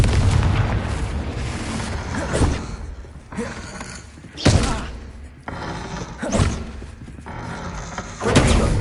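Repeated booming spell blasts from the Hogwarts Legacy video game, Bombarda and Confringo among them, land as loud thuds and explosions in a fast irregular sequence, with spoken spell calls between them.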